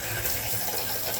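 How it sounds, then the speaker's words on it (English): A hotel bathroom shower runs with strong pressure, giving a steady, even hiss of spraying water that holds constant throughout with no voices. "And plenty of shower pressure, and that's really great."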